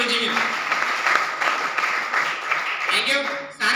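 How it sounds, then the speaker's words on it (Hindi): Sustained applause from a crowd at a business seminar, steady and fairly loud throughout, with some voices mixed in near the end. "सर के लिए भी जोरदार तालियां होनी चाहिए।"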